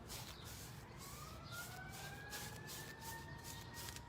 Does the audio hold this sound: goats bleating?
no